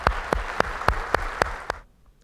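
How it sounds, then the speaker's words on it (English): Claps ring out at a medical clinic's annual meeting, a handful of sharp, evenly spaced claps that sound like a single person, close and loud, then stop abruptly into quiet room tone. "how about a round of applause for Joe?"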